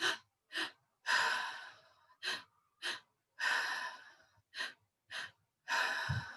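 Deep, forceful breaths in a breathwork session, drawn in and pushed out in a steady repeating rhythm of about ten breaths, close and loud, with silent pauses between them.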